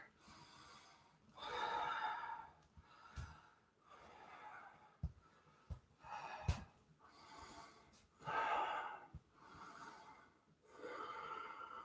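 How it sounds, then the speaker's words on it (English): Deep, audible breaths during a hot yoga class of standing postures: slow inhales and exhales rise and fall in long swells several times, fairly close, with a few short sharp sniffs between them and no talking. "Inhale. Exhale. Inhale and widen stance. Exhale."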